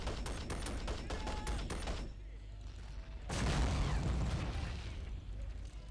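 Gunfire rakes a row of greenhouses in the Men of War multiplayer game, rapid popping shots in the first two seconds, then a heavy blast with shattering debris, while a player talks over it.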